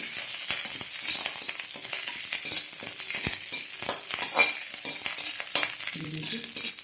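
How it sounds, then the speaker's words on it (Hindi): Namkeen mix with curry leaves roasting in a hot kadhai, a continuous crackling sizzle with frequent scraping stir strokes, close and steady, no voices. "क्रंची होने तक हम इसको भून लेंगे। थोड़ी देर ऐसी गर्म कढ़ाई है हमारी, इसलिए ये अच्छी तरह से भून जाएंगे।"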